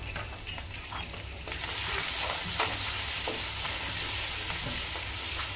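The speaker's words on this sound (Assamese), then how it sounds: "মছলাখিনি অলপমান দি এনেকৈ ভাজি ল'ম।" Ground spices, coriander powder and chicken masala, frying in oil in a pan while being stirred for soybean kofta curry, with a continuous sizzle that swells after the first second and scraping stirs throughout.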